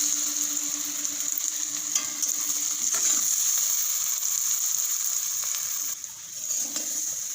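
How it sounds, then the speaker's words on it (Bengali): Potato and capsicum curry is stirred in a pan after salt goes in, a continuous hiss of frying with soft scraping and stirring strokes running steadily throughout, with no talking. "লবণটা দিয়ে আরও একবার ভালো করে নাড়াচাড়া করে নিচ্ছি।"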